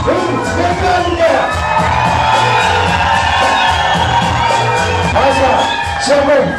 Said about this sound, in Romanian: să țipați și să aplaudați cât puteți voi de tare